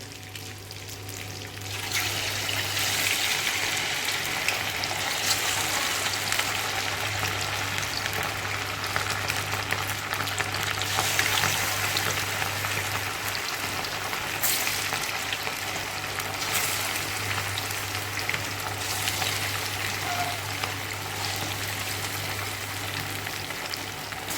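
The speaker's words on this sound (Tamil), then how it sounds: "எண்ணெய் சூடாயிடுச்சு நம்ம வந்து சிக்கனை பொறிச்சு எடுக்கலாம்" Chicken 65 pieces deep-fry in hot oil with a steady, continuous sizzle and crackle, running alone over a low constant hum.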